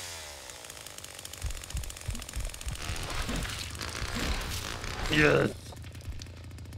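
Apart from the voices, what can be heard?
Leatherface chainsaw starting and running in Texas Chainsaw Massacre video game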